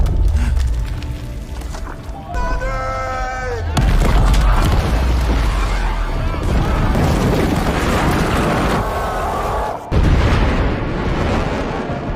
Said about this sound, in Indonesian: para pekerja sepakat untuk meledakkan gunung tersebut